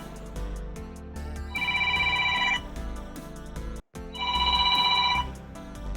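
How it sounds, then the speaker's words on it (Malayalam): A boAt Storm Call smartwatch plays its incoming call ringtone, a loud repeating melodic ring in two bursts separated by a short silent gap. "ഫോണിൽ കേൾക്കുന്ന അതേ റിംഗ്ടോൺ."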